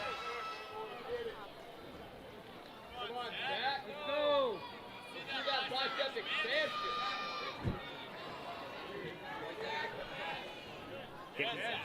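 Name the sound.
crowd cheering at an obstacle course competition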